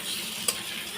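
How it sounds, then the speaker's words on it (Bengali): Fried onions with cumin paste and green chilli paste stirred in a wok, giving a steady close sizzle with one quick scrape of the spoon partway through. "এখন ভালো করে নাড়াচাড়া করে নেব"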